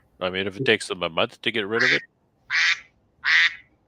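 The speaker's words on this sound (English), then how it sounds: "what the world is that? that's a duck." A phone's duck-quack sound goes off during a live beekeeping chat: a person speaks first, then two separate loud quacks follow alone with short pauses between.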